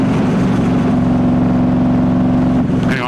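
A 2019 Ducati Diavel S with a full exhaust system rumbles loud and close in a steady, throbbing engine note. It eases off slightly near the end as the bike slows.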